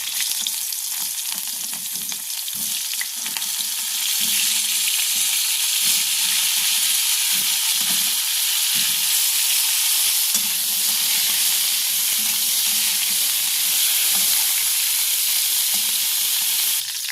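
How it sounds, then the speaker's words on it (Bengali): Cauliflower florets fry in oil already used for fish, giving a continuous loud, bright sizzling hiss with faint stirring clatter underneath and no talking. "এই তেলের মধ্যেই আমি ফুলকপিগুলোকে ভেজে নেব"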